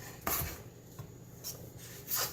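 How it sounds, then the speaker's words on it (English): Shallots are diced on a cutting board with a knife, giving a few soft, irregular chopping taps and scraping rubs, close but quiet, with no talk. "I'm kind of just dicing these every which way"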